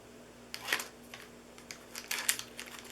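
Adhesive backing peeled away during a paper-craft Christmas treat holder project, heard as two short, close crinkly rips, one near the start and a longer, brighter one toward the end, in a quiet room.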